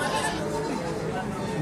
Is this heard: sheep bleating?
yes